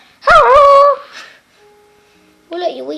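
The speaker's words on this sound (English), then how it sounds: "It's barking again." A Minecraft wolf gives a short yipping bark, followed by a faint pause and another brief whining bark, close and clear with no talk over it.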